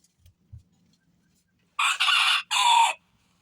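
A bantam hen vocalizes on its own: two faint low thumps, then a loud, close series of harsh clucking or crowing calls in two bursts.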